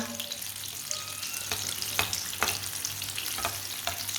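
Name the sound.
besan breakfast cooking in oil on stove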